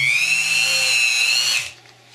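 Power tool polishing the feed ramp of a Five-seveN pistol, a steady high-pitched whine running for about a second and a half before cutting off.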